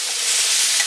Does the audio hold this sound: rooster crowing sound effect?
no